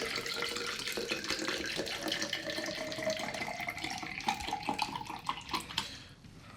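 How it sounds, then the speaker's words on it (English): Distilled water pours into the reservoir of an EK D5 pump, a steady close-up trickle and splash whose pitch slowly rises as the reservoir fills, with no voices over it. "So let's try and get some water in the res without making an absolute mess."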